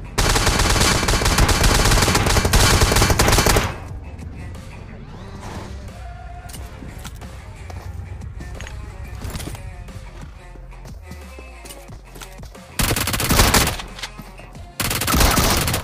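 Gunfire in a battle royale mobile game, dense loud bursts at the start, quieter scattered shots and game sounds in the middle, then more heavy bursts near the end, with someone talking throughout.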